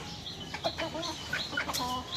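Roosters cluck in quick, uneven bursts, sounding close and moderately loud with no talking over them.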